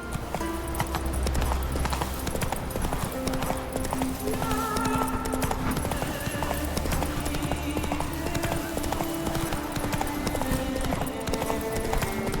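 Horse galloping in The Witcher 3 video game, rapid rhythmic hoofbeats running steadily over a game soundtrack, close and continuous.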